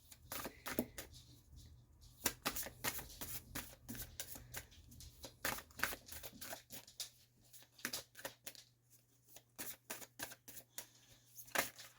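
Sacred geometry oracle cards being shuffled by hand, a quiet, steady run of soft papery riffles and flicks with brief pauses, close and faint, with no talking.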